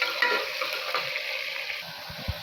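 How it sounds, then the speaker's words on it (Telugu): Onions and coriander frying in a pan give a steady, close sizzle with a soft continuous crackle, plus a few low knocks near the end. "ఆనియన్స్ కొంచెం కలర్ చేంజ్ అయ్యే వరకు ఫ్రై చేసుకోవాలి."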